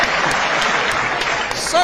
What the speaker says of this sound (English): Oh man, applause.